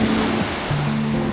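Sea waves at high tide on Patar Beach in Bolinao, Pangasinan, a steady, loud wash of surf running without a break, with a low tonal hum underneath.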